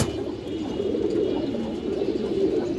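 Raw Pankhi and Mushaldom pigeons coo softly and continuously, a low throaty murmur close by without any talk.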